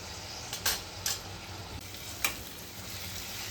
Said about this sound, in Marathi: कांदा टमाटा आपलं छान फ्राय झालेला आहे.